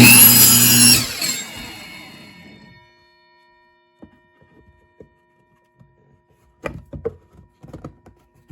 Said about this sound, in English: So we'll take it back over here to the cutoff saw and we'll do the same thing.